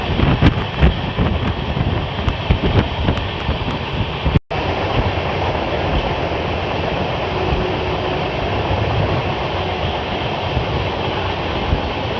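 Dhauli Express train rolling past a station, a steady broadband rumble of wheels and carriage noise with wind buffeting close by, continuous throughout, with a brief dropout midway.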